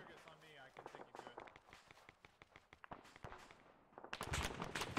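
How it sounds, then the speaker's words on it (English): Gunfire in the military shooter Arma: scattered sharp shots cracking at uneven intervals, some close and others more distant, ending in a denser, louder volley, with voices talking over the firing. "Also, we're getting shot at."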